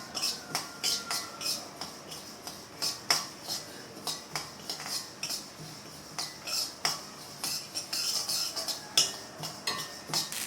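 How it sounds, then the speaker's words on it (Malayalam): Garden cress seeds roasting in a pan over a medium flame for a medicinal ladoo, stirred with a utensil in quick repeated scraping strokes that sound close and rhythmic, with no talking. "ആശാളി ചേർത്തൊരു മീഡിയം ഫ്ലെയിമിൽ വെച്ച് നന്നായിട്ട് വറുത്തെടുക്കണം."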